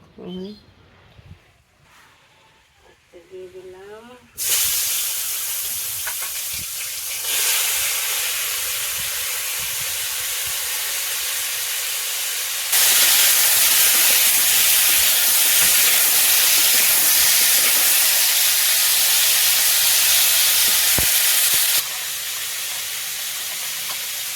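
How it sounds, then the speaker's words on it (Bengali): Pointed gourd and okra frying together in a village kitchen: after a brief voice at the start, a loud, steady broadband hiss of sizzling takes over and swells even louder midway before easing slightly near the end. "পটল আর ঢেঁড়স মিশিয়ে ভাজি করুম"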